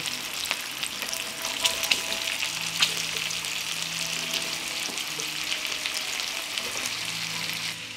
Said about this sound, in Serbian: Prokrušit ću slaninu sa obe strane. Dodat ću i povrće.